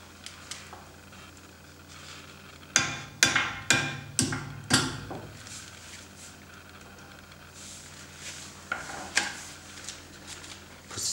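Brake pad retaining pins are hammered into a Teves brake caliper on a Mercedes rear axle, a quick run of five sharp metallic blows followed by lighter scattered taps and handling noises.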